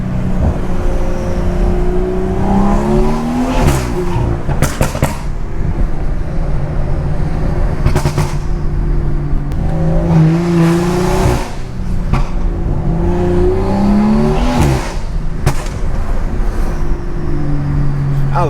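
A loud BMW with a B58 engine revs and burbles through city driving, the exhaust rising and falling with sharp crackling pops scattered between pulls, recorded close from inside the car.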